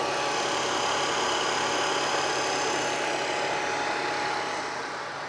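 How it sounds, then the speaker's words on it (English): An electric car AC compressor runs with a steady, even mechanical hum and broad whir, engine off, without change, close and fairly loud, no voices. "Engine isn't running, but the compressor is on."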